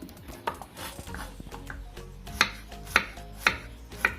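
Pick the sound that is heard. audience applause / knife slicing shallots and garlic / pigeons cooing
knife slicing shallots and garlic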